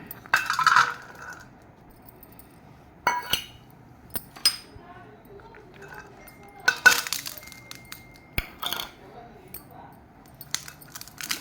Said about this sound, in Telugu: ఇవన్నీ ఒక బౌల్ తీసుకొని అందులో అన్నీ కలపాలి